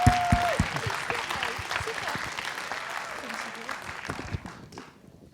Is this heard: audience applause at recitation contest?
yes